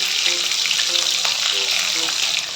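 Chopped green chillies sizzle in hot oil, a steady dense frying hiss that stays loud and close throughout, with no talk over it.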